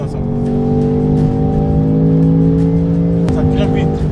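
A 2024 Range Rover SV First Edition accelerates hard during an overtake, with a steady, loud engine drone and strong low hum heard from inside the cabin, rising in pitch through a gear change near the end.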